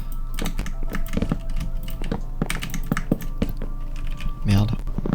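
Computer keyboard keys clatter in quick irregular bursts while a player uses the keyboard instead of a controller for a PC video game; close and steady, with a voice speaking over it.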